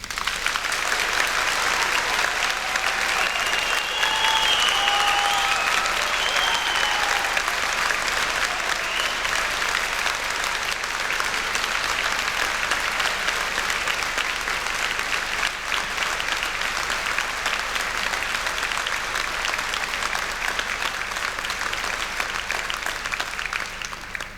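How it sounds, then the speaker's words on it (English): A large audience at a university degree ceremony in Belfast gives graduates a long, sustained round of applause, a thick, steady wash of many hands clapping for over twenty seconds, with faint crowd murmur beneath and no speech. "giving all of our amazing graduates a huge round of applause"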